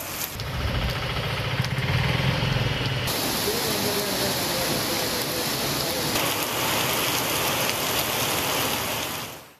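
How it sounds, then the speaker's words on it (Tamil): Heavy rain pours steadily, a dense continuous hiss of drops on surfaces close by that fills the whole stretch without a break. "சுமார் ஒரு மணி நேரம் பலத்த மழை பெய்தது."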